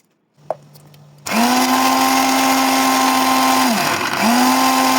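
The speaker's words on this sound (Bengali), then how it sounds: "সব কিছু ব্লেন্ডারে ব্লেন্ড করে তৈরি করেছি।" A blender whirs into a loud, steady high-pitched motor whine as it blends jamun, lime juice and ice, briefly dipping in pitch before spinning back up.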